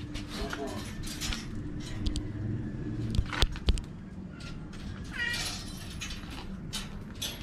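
Several cats meowing and yowling repeatedly in a home in a cemetery, some close and loud, amid background clatter and faint voices.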